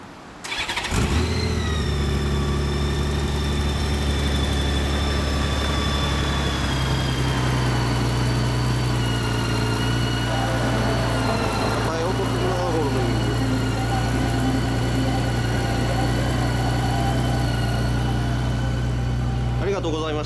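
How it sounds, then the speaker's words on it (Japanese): Honda Gold Wing F6C 1800 motorcycle engine is started and settles into a steady, smooth low idle, loud and close, holding evenly to the end. "エンジンかけてもらっていいですか。"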